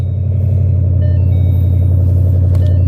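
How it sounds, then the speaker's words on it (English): A Ford Mustang GT engine runs at a steady, loud idle up close, a continuous deep rumble with no break throughout. "The car starts right up and it doesn't get stuck anymore."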